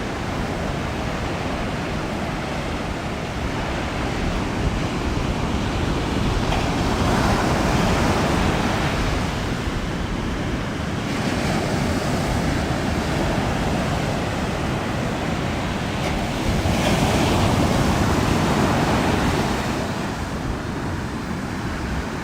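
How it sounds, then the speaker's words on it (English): Sea waves rolling onto the coast on an early morning walk, a steady broad roar of surf that swells and eases in slow surges every few seconds, close and continuous with no voices. "Listen to the sound of the sea."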